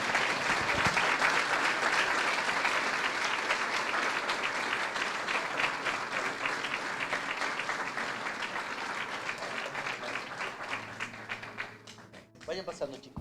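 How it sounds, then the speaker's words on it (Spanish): A church congregation breaks into loud, sustained applause during a service, dense clapping filling the room for most of the stretch before thinning out near the end. "Dale un fuerte aplauso"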